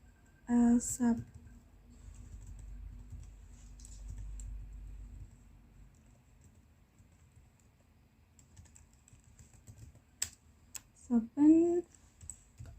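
Short bursts of typing on a computer keyboard while working in Stata, quick clicking keystrokes near the start and again near the end with quiet between them.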